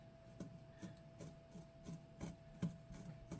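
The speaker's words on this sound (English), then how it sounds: "Yeah, it's scraping it." Rhythmic scraping on a shirt as embroidery stitches are rubbed and picked away, repeating strokes about every half second, close and fairly quiet, with no voices.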